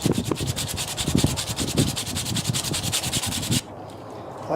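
Rapid rhythmic rasping of coarse 60 grit sandpaper rubbed by hand over a wooden knife handle, close and steady for several seconds before stopping abruptly into quiet.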